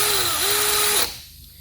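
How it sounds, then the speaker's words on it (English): Cordless power drill on its high speed setting boring through steel, a close, loud whirring whine with a slight dip in pitch, then stopping abruptly after about a second. "I've got my drill, and I've got it on the high speed mode, because that's the best way to drill through steel here"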